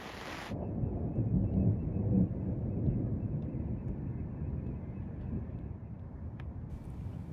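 Thunder from a passing storm rolls as a long, low, steady rumble, with wind and rain noise alongside. A brief sharp onset marks the start, and the sound stays fairly loud and continuous throughout.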